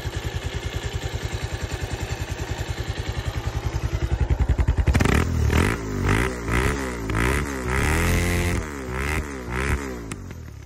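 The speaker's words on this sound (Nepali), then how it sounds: "ल साउन्ड पनि सुनिहाल्नु भयो। बाइक चाहिँ यही हो, बजाजको पल्सर 220 है।" A Bajaj Pulsar 220F motorcycle idles with a fast, even throb, then is revved hard several times in rapid bursts, each rise and fall close and loud.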